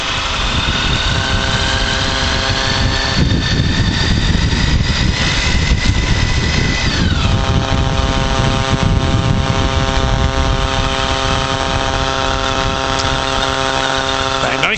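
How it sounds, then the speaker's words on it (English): A motorcycle engine hums steadily at low revs while the bike rolls slowly in first gear, a constant mid-pitched drone with slight rev changes, a voice speaking over it. "Nice and slow, down into first gear, rear brake on, flick left, bring it right, drop the bike round, slow it down, rear brake"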